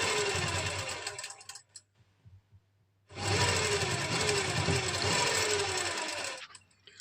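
A sewing machine runs in two steady stitching bursts with a brief pause between, joining the shoulder seam of a lined kameez suit. It is close and loud, with a constant hum and rapid needle chatter and no talk.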